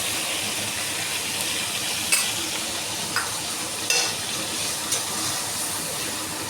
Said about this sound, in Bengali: আর মশলা কষাবো, এখন বেশি হাই দিতে পারবো না, তাহলে মশলাটা পুড়ে যাবে